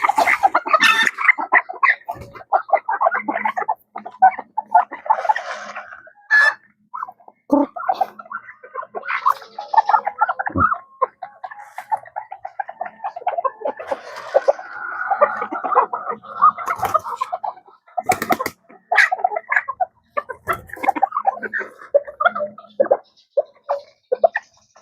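Close, loud clucking and throaty gargling calls from a chicken in a backyard setting come in irregular bursts with brief pauses, with no one talking.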